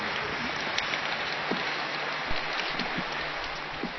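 Rain falling on an outdoor school notice board in Punjab, a steady soft hiss of drops with a few sharper patters, fairly faint and unbroken.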